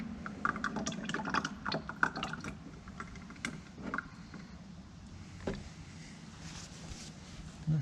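Dike Stop Leak trickles and glugs into a DT466 diesel engine, uneven liquid pouring with drips and small splashes, close and fairly quiet, easing to a lighter trickle toward the end.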